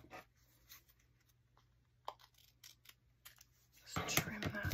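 Scissors trimming paper for handmade journal ephemera: a few quiet, close snips spaced apart, followed by a louder burst of paper handling near the end.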